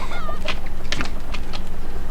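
Chickens on a raft farm in the game Raft give short clucking calls in a few quick bursts against a steady ambient hum, with no voices.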